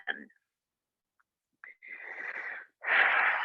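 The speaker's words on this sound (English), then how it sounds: "Tap back into that Ujjayi if you lost it." Audible ujjayi breathing during a gentle yoga flow: a brief breath, a pause, then two long, hissing, throaty breaths close to the mic, the last one louder.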